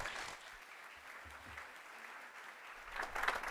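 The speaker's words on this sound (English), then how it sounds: "please join me in a round of applause for Governors Hogan and Mead" Faint audience applause for two governors at a conversation event, a soft distant wash of many hands that swells slightly toward the end.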